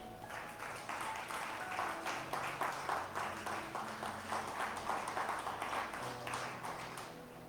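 Congregation in a church applauding together, a steady dense patter of many hands clapping for several seconds at moderate distance, with faint voices mixed in.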